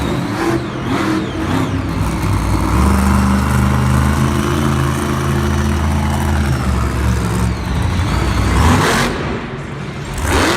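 A monster truck engine roars loudly at a Monster Jam freestyle event in Raleigh, surging and revving through sustained bursts with crowd and arena noise around it.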